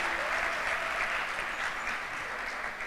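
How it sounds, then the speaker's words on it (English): Steady, fairly close applause from a crowd at a Year 13 graduation ceremony, dense and even clapping throughout the short stretch without voices. "So a huge round of applause once again for the youngest talent at junior"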